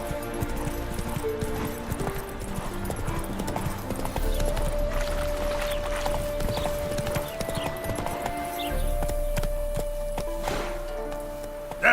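Roach the horse gallops in The Witcher 3, steady rhythmic hoofbeats clip-clopping throughout with a brief whinny, over a game music bed and ambient sound.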